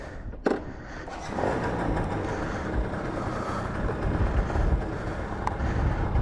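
A Yamaha BWS 100 scooter fitted with a Malossi 125cc kit and stock exhaust pulls away, its engine a steady loud drone after a brief sharp knock at the start, with no talk over it.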